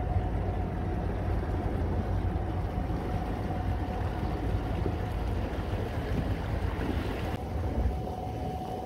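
Boat cruising under a Lowrance Ghost electric trolling motor in course lock mode, a steady broadband rumble of water and wind with a faint constant hum, loud and unbroken throughout.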